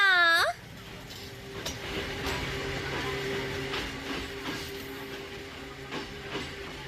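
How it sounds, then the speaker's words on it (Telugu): A mountain train heading toward Hakone rolls along with a steady low rumble, faint clicks and a sustained hum from inside the carriage, after a brief bright chirp at the start. "మౌంటైన్ ట్రైన్ పదా."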